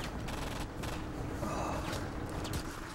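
Dense, continuous gunfire from the Enter The Matrix video game, rapid shots blending into a steady loud roar with clattering mechanical bursts throughout.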